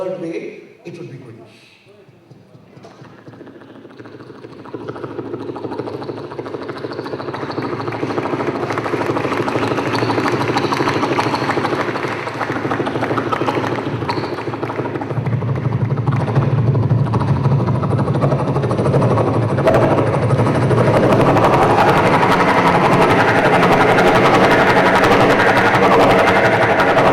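A performer vocally mimics a helicopter. A loud, sustained, throbbing rotor-like drone builds from a quiet start and holds steady at close range for over twenty seconds.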